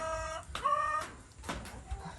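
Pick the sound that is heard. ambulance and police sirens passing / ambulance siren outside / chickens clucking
chickens clucking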